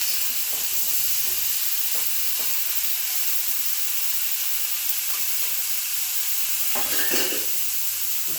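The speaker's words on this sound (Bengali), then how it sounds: "সমস্ত সবজিগুলো দিয়ে ভালো করে নাড়িয়ে নিয়ে ঢাকা দিয়ে দিচ্ছি।" Mixed vegetables with bori lentil dumplings for a pachmisali curry get stirred in a hot pan, a constant close sizzle and hiss broken by a few scraping stirs, no voices.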